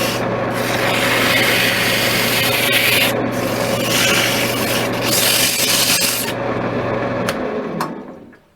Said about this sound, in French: je peux poncer comme ça, ou je peux poncer de manière en faisant attention comme ça